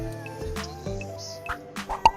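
Water dripping from a tap, a few soft irregular drips and plops heard up close over a faint steady background tone.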